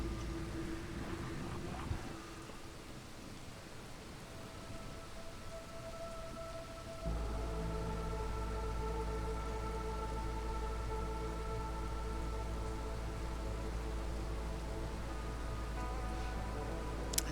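Rainstorm in the video game Against the Storm, steady rain hiss with low rumbling, a denser heavier layer kicking in partway and continuing evenly with tonal game sounds, no talk.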